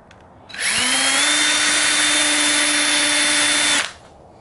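A power drill with a small 1/8 inch bit bores a centered hole in a part for an electric-motor alternator conversion, spinning up into a loud, steady whine for about three seconds before cutting off.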